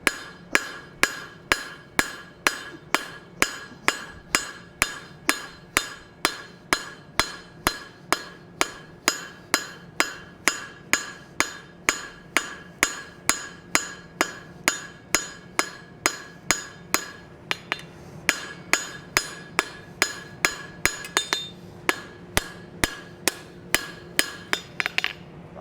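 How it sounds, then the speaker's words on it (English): Steady, rapid hammer blows on hot metal at an anvil while forging a Russian-style rose, dozens of sharp ringing strikes in an even rhythm, close and loud, with a brief pause near the end. "I'm going to go ahead and hammer this up."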